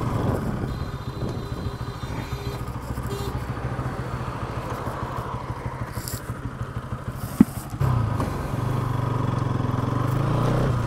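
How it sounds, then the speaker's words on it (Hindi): A motorcycle, just back from a pollution check, runs with a continuous engine drone while being ridden, the pitch shifting as it picks up speed, with a sharp knock near the end and the engine note rising afterward. "चलो गाड़ी घुमाते हैं, जैसे थोड़ी भगाती है तेज।"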